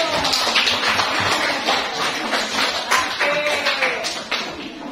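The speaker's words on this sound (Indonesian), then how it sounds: "Boleh tepuk tangan teman-temanmu." Students clapping in a classroom during a chemistry lesson, a continuous patter of many hands close by, with voices mixed in.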